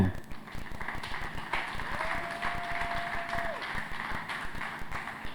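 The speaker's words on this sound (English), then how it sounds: "with a round of applause, let us welcome our special guest speaker for today, Mr. Idris Bello." An audience at a tech conference gathering applauds to welcome a guest speaker, a continuous patter of many hands clapping with crowd murmur, while an amplified voice speaks over it briefly.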